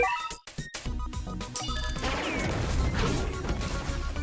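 Gear 5 Luffy slams the ground with his arms in a video game attack, a sharp crash and heavy thwacks up front followed by a roaring, rumbling debris wash that fills the rest.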